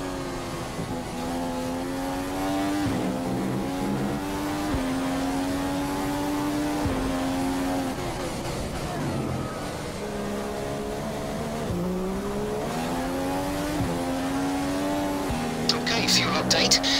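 A 2015 Ferrari Formula 1 car in the F1 2015 racing game at the Malaysia circuit climbs back to racing speed, its high engine whine rising steadily through repeated gear shifts, loud and continuous throughout.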